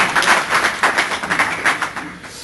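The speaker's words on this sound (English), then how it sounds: "A round of applause." An audience at a training session for site remediation professionals claps at moderate volume in a brief, steady patter that thins out toward the end.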